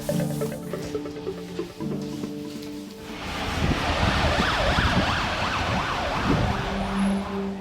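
An ambulance siren arriving at a hospital A&E with a critically ill patient wails in loud, warbling sweeps over traffic rumble, swelling in after a few seconds of quieter tonal hum and continuing to the end.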